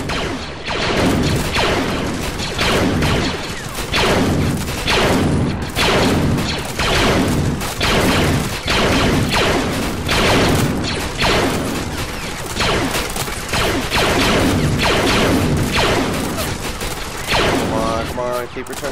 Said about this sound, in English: Look at all the lasers flying around